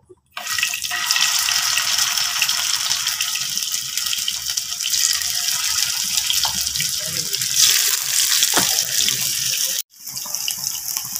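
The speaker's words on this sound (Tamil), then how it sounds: "இப்போ மீன் பீஸை வந்து உள்ளே போட்டுக்கிறோம்." Loud, steady sizzling as fish pieces shallow fry in hot oil, a continuous hiss up close that cuts out briefly near the end and then resumes.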